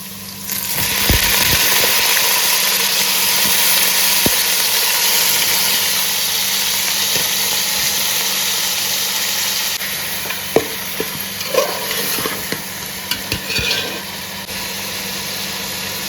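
Chicken pieces sizzle in hot oil in a pan with capsicum and onion for chicken curry, a steady broad frying hiss running throughout, with occasional stirring clinks and scrapes near the end.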